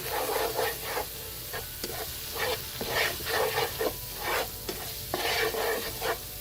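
Chili, coriander and cumin powders stir-frying gently in a pan over low heat, giving a soft steady sizzle broken by repeated scraping strokes of a spoon, close and continuous with no talk.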